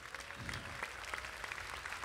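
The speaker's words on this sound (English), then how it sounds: "we just want to please give each one of these men a round of applause" Audience at a jazz festival tribute concert claps steadily throughout, a dense even wash of applause heard from within the crowd at moderate level.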